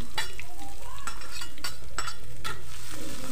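Shallots and garlic being sautéed in a pan, with loud continuous sizzling broken by repeated sharp scrapes and clinks of a utensil stirring against the pan, heard close with no voices.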